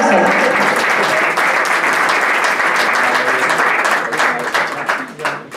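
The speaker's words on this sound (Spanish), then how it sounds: "Un fuerte aplauso." Loud, dense applause fills a Spanish music event hall for a local couple, sustained throughout with scattered crowd noise mixed in and a slight tapering near the end.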